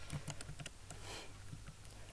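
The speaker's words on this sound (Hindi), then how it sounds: "यहाँ पे मैं असगर लिख लेता हूँ" Keystrokes on a computer keyboard entering text into an Excel cell, a short irregular run of light taps that pauses and resumes, fairly quiet, with no talk.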